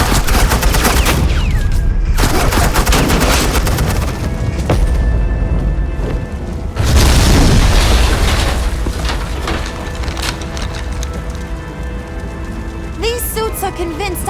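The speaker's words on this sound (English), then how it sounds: "suppressing fire" Sustained suppressing gunfire in the Batman Telltale game, a dense rattling barrage running through most of the clip with brief heavier bursts, mixed with background game sounds and no clear talk.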